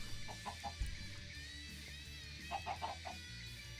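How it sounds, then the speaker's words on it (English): Chickens in a Minecraft modpack chicken farm, kept up in an attic, give a few short soft clucks in two small bursts over a low background hum, with no talk. "because you can hear them, there's some chickens upstairs in the attic"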